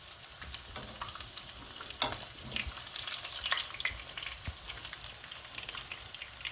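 Chicken pieces frying in a hot pan for a homemade chicken sandwich, giving a steady close sizzle and crackle with scattered sharp pops and occasional stirring clicks, and no voices.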